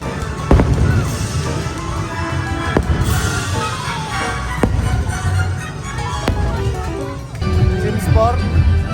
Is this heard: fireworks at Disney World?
yes